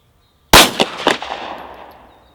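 A single sharp shot of Winchester 124 grain 9mm NATO ammunition cracks out loud and close, followed by a few reverberant echoes that fade away over about two seconds.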